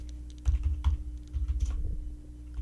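Quick bursts of keystrokes tap on a computer keyboard close by, with uneven clicks and short pauses between them, over a low background hum.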